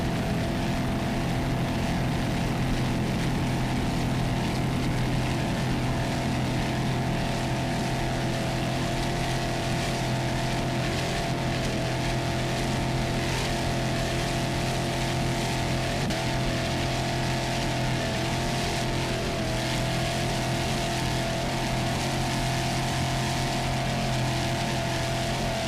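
A 30-foot Phantom powerboat races at the 2002 APBA world championships, its engines giving a loud, continuous, rough roar that holds steady throughout without pause.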